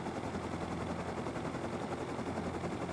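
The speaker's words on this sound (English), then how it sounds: "Sometimes, man, these helicopters, you gotta really watch it." Attack helicopter firing its machine gun in the video game Rust, a continuous rattling burst of gunfire over rotor drone, steady and fairly close, with no talk.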